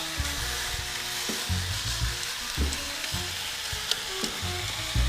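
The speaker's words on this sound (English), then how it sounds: "Press it down so it sears completely." Grilled pork loin sears in a hot pan, pressed down after flipping, giving a loud, continuous close-up sizzle and crackle broken by repeated low thuds and scrapes, with no voices.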